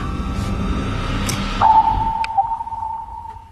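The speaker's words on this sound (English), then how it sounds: "give me one sounding for depth on their ping" A submarine sonar ping rings out as a single clear, sustained tone over a quiet, rumbling background, with a faint whoosh before it, set in a World War II naval scene.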